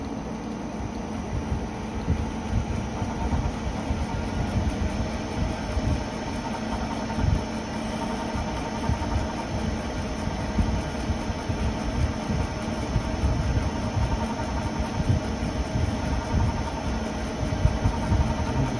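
A machine spindle runs steadily during a boring operation with the RPM turned up, giving a constant mechanical hum and vibration that stays even and close throughout, with no talking.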